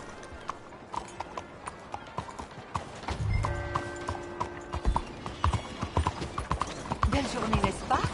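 Horse hooves clip-clop in steady rhythmic beats in Red Dead Redemption 2 on PS4, loud and close, with a brief whinny partway through and occasional voices speaking over the hoofbeats.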